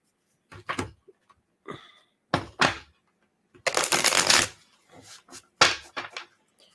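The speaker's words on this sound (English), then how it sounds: "I can shuffle much better off the cloth, but we're going to try it one more time off the cloth" A deck of playing cards being shuffled outdoors in a garden, in several separate riffles and rattles with pauses between, the longest burst in the middle and the sound close.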